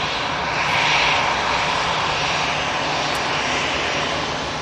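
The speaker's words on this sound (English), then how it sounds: "Gulf Air Dreamliner heading back to Bahrain, taking off from 2-3 left during this Friday show." A Gulf Air Boeing Dreamliner jet takes off from an airport runway, a loud, steady engine roar with broad rushing noise that holds strong and even throughout, with no talk.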